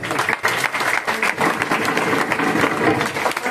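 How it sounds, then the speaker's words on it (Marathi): Energetic applause from a crowd, dense clapping sustained evenly throughout without pause. "त्यांच्यासाठी पण जोरदार टाळी वाजवा."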